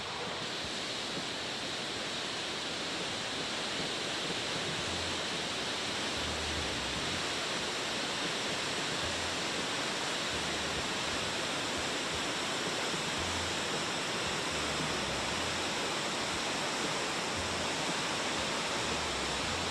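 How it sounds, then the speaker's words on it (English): Steady, dense roar of a roughly 150-foot waterfall in Iceland, a continuous broadband rush heard close and loud without pause, with faint low rumbles beneath. "This waterfall is about 150 feet tall."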